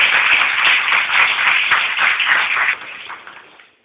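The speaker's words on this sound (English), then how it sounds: "give a round of applause for our speaker, Dr. Pesta." Applause from an audience welcoming a speaker to a lecture on Common Core, a dense, steady wash of many hands clapping that holds for nearly three seconds, then thins and fades out.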